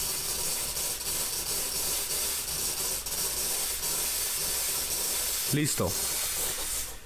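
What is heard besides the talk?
coffee machine steam wand releasing steam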